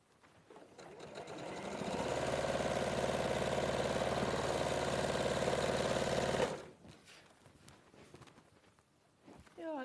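A sewing machine runs steadily for several seconds while a seam is stitched, a loud continuous mechanical whirr that cuts off abruptly, followed by faint voices talking.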